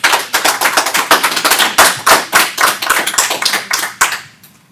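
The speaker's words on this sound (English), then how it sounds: "I don't mind you applauding." An audience applauds at a school board of education meeting. The clapping is loud and dense, with sharp rapid claps that keep a steady patter, then fade out near the end.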